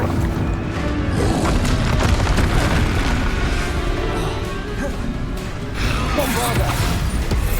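Bombarda blasting spells go off during a Hogwarts Legacy battle, a dense run of loud booming explosions and crashes over a constant low rumble of combat, with voices mixed in among the blasts.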